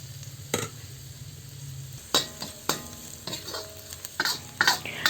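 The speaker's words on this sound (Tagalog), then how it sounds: "Gisahin lang natin ang sibuyas at bawang hanggang sa maluto na ito." Onion and garlic sautéing in a pan for pancit canton, a steady soft sizzle broken by several sharp clinks and scrapes of a utensil stirring, close and without voices.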